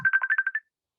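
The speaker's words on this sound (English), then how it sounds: "What's that noise? That's my phone." A mobile phone ringtone chirps in a quick series of about six bright electronic pulses, close and clear, then cuts off into silence.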